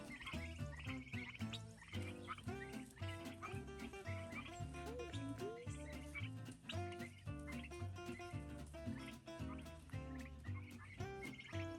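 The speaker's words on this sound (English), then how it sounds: "they're making lots of little happy chirping sounds" Young fowl chirp and peep continuously, many overlapping calls in a busy, rhythmic chatter, quiet overall.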